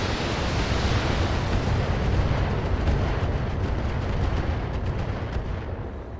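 Missiles launching and detonating in the BattleTech video game with a mod, heard as a dense, continuous roar of rumbling blasts and crackling impacts, loud and sustained throughout with no talking.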